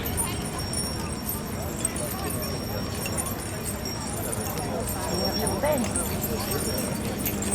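A single horse, a Dales Cross-shire, walks past at the Great Dorset Steam Fair with steady clip-clop hooves under an announcer's voice over a loudspeaker.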